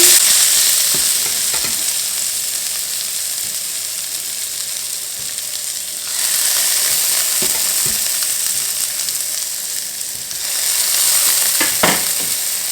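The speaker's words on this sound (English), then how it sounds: "So now in the pan we're going to get these pieces of stem." Broccolini stem pieces fry in a hot pan, giving a steady loud sizzle that swells twice as more pieces go in or get stirred, with occasional clicks of utensils against the pan.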